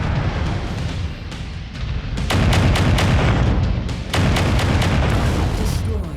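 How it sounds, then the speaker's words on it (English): A mech blows apart in MechWarrior 5 Mercenaries, with heavy booming blasts and crackling weapon fire stacking into a dense, loud barrage with two sharp bursts of detonations. "That mech is about to go critical."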